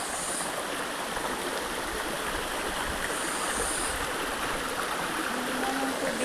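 Steady, full rush of clear water from a waterfall and stream at Little Hawaii clear water bay, a constant broadband wash filling the whole stretch with no voices over it.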